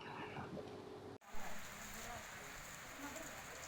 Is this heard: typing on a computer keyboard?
no